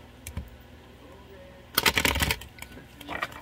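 A deck of cards is shuffled up close at a table, giving a short soft riffle, then a louder dense flutter of cards lasting about half a second, followed by lighter taps as the deck settles.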